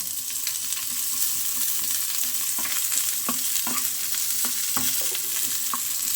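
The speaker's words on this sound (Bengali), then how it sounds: "এবারে আমরা পেঁয়াজটা ছেড়ে দিচ্ছি।" Onions fry in mustard oil over medium-high flame for a tomato and potato bharta, a steady close sizzle broken by scattered spatula scrapes and taps, with no voices.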